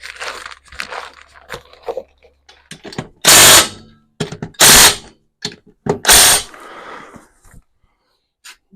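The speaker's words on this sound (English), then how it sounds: "zip them with the impact here, and then torque them later when it's sitting on the ground" Pneumatic impact wrench zipping lug nuts onto a wheel of a 1961 Chevrolet Impala in a garage, heard as three loud rattling bursts between softer clanks and handling noises.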